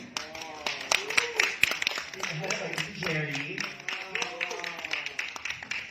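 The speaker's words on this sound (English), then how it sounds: "Good clap." Scattered clapping and sharp hand claps sound under a speaking voice at a beauty pageant press conference, with a crowd murmuring in the background.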